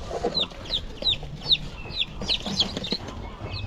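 Chicks penned inside a fish-rearing enclosure give repeated high, thin peeping chirps, roughly two per second, over a steady outdoor background hum.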